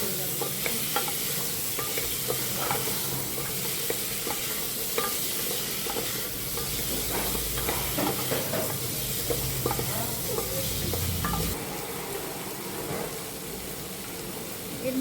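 Potatoes, carrots, tomatoes, beans and other vegetables fry and sizzle in a pan, with steady hissing and repeated scraping stir strokes throughout, close and moderately loud.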